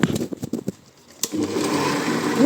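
A benchtop mini lathe is switched to its higher speed setting, with a few clicks and knocks before the motor spins up into a steady, loud mechanical whine and hum that keeps going without talk.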